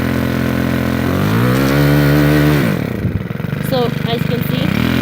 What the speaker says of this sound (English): If you want, I can fire that up. I'll do that now. Okay, so I fired it up.